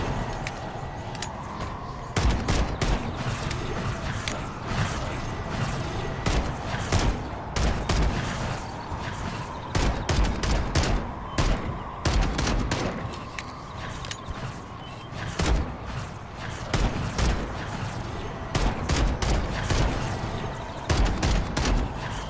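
Dense bursts of rapid gunfire in a video game, loud and close, crackling in repeated volleys of machine-gun-like fire with short pauses between them, continuing throughout without any talking.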